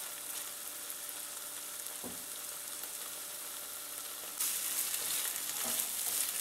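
Coconut masala fries in a pan, a steady close sizzle that grows louder partway through, with a couple of soft utensil taps.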